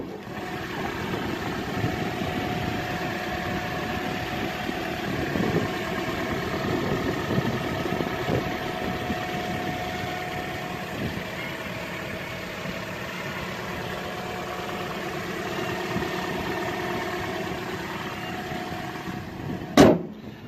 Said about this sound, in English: let you have a little bit of a listen of the engine